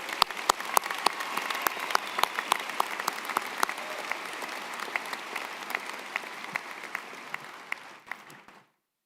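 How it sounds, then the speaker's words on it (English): An audience at a high school graduation ceremony claps in steady, sustained applause that slowly fades out over about nine seconds, heard from a distance in a large hall. "Please give another round of applause for those 9."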